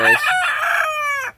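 A brood cock rooster near his hens gives a single loud, close crow that rises and holds before cutting off, with no talk over it.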